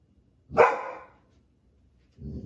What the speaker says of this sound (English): And now that Halo is barking, I'm going to end this reading.